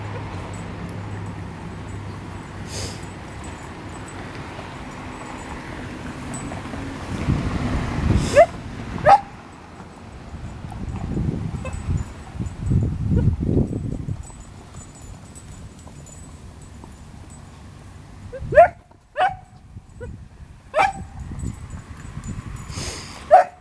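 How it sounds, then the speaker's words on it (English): An excited beagle barks in short sharp bursts outdoors while tracking a squirrel up a tree, the yelps spread out and moderately near, with people talking and rustling movement in between. "bark and stuff."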